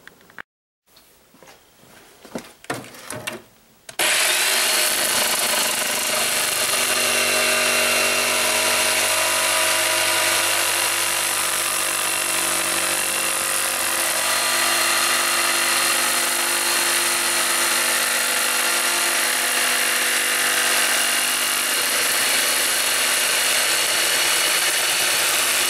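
A power tool cuts a plastic sheet for a tail light lens, starting after a few seconds of clatter and then running loud and continuously with a steady whine until the end.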